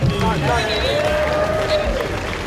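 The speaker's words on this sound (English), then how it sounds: "Everybody clap for Jeffrey." A live comedy-show audience claps and murmurs in a loud, steady wash of applause, with crowd babble and a sustained tone running through it.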